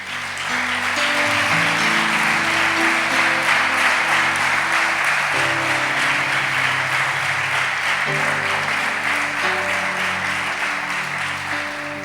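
A church congregation applauds the Lord in a long, loud, continuous wave of clapping, with sustained organ or keyboard chords ringing underneath throughout.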